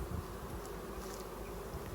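Honey bees buzz steadily in a dense, continuous drone close by, with no voices over it, the insect hum holding even loudness throughout.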